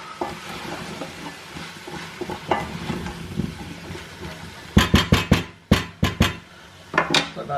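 Celery and chopped kolokasi sizzle in a pan, a soft steady frying hiss that gives way to sharp clatters of stirring and a utensil knocking against the pan, close and without talk.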